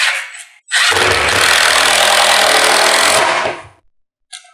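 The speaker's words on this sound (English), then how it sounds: "I would also recommend pre-drilling if you use screws so that you don't crack your material." A power drill pre-drills screw holes into material during table mounting for a LongMill MK2, roaring loudly and continuously for about three seconds before winding down, with short bursts of noise at the start and end.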